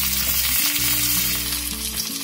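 Lemongrass, basil and kaffir lime leaves fry in hot oil for a Thai green curry, giving a steady, close, dense sizzle with a low hum beneath and no talking.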